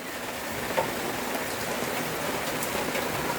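Steady rain falling on a roof in a rainy neighborhood, a dense, continuous hiss of drops hitting surfaces at close range, with no voices.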